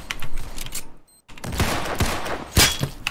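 Gunfire and a loud blast from a grenade in a video game, a dense burst of sharp impacts broken by a brief silent gap, then further crashing bangs close and loud.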